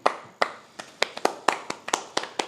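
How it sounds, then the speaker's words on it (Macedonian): A small group claps in a sparse, uneven rhythm, about a dozen sharp hand claps over a couple of seconds, close and fairly loud, with no talking. "Еден аплауз за охрабрување."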